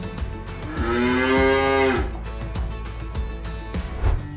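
A cow moos loudly during a children's toy farm game in one long, drawn-out call with rising then falling pitch, followed by scattered thumps and light background noise.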